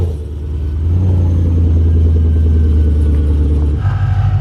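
A supercharged 2017 Camaro SS Vortex engine rumbles loud and close with a deep, steady idle-like drone, then briefly revs up near the end.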